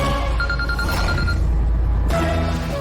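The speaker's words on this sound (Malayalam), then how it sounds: "ഫോൺ" A mobile phone rings loudly in a household scene from a TV drama, with repeated electronic ringtone notes that cut off abruptly near the end.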